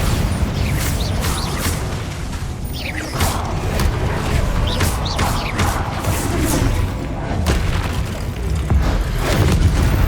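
Bombarda and Confringo spell explosions burst repeatedly in the video game Hogwarts Legacy, heavy booms and crashes layered over a constant rumbling battle din, loud and close with no break.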